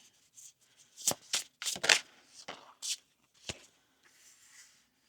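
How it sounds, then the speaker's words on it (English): Tarot cards shuffled and pulled from the deck in a series of crisp, papery riffles and slaps, close and fairly loud, with short pauses between bursts and no talk. "So I'm just gonna pull a couple more cards for clarity."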